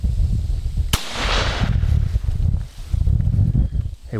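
A shotgun fires once during a bird hunt, a single sharp blast with a rushing tail, followed by outdoor rustling and faint movement.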